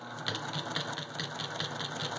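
A sewing machine stitching quilt binding up to a pin at an irregular corner, a steady rapid rhythmic chatter of the needle running close and continuous.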